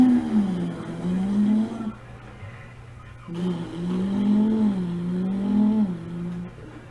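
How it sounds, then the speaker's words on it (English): A cardboard Nintendo Labo Toy-Con 03 toy car in the video game, its engine giving a low rising and falling hum with revving swells, broken by a brief lull partway through. "I sure do like that engine that goes."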